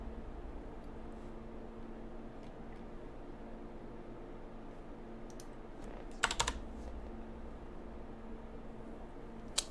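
A few sparse, quiet keystrokes tap on a computer keyboard, with a short quick flurry of typing near the end over a steady low background hum.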